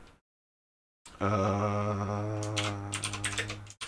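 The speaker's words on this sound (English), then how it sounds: "I really like this keyboard, but it is not awesome for recording." Keys clack steadily on a computer keyboard after a brief silence, a close, continuous run of typing that thins into scattered clicks toward the end.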